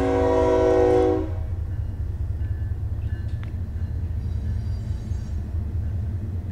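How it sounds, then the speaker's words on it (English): A passing train blares a loud, sustained horn blast for about a second, then a steady low rolling rumble of the cars continues close by. "Let's wait for the train to go by."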